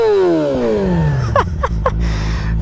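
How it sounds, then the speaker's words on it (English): Yamaha R6 with a full Leo Vince exhaust and flash tune: a high rev falls away smoothly, then several quick crackling pops and blips before settling to a loud, close idle. "Take a listen to this exhaust."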